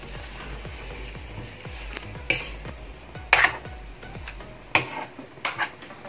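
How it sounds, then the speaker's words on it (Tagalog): A utensil stirs corned beef spaghetti sauce in a pan, with soft scraping and a few sharper clinks against the metal over a faint background sizzle, and nobody speaking. "Haluin na natin siya."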